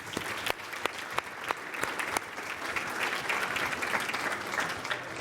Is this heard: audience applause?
yes